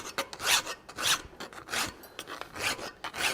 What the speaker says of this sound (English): Just keep the filing consistent. Consistently the same angle if you can.